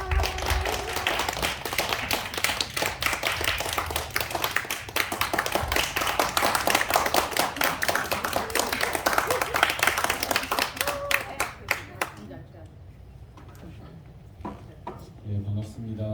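A youth worship congregation at a church claps loudly and continuously to welcome a guest speaker. The dense applause fills most of the clip, then thins to a few scattered claps and fades into quieter room sound.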